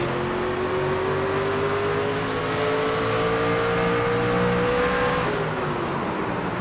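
A race car engine in the NASCAR 25 video game drones loudly and steadily at high revs, with its pitch slowly climbing and then dropping near the end as the car runs close behind another on track.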